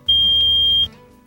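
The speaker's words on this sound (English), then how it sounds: "When activated, the CO warning sounds like this." Carbon monoxide detector alarm in a 2004 Newmar Mountain Aire motorhome sounds one loud, steady high-pitched tone over a low hum for most of a second, then cuts off abruptly into quiet room noise.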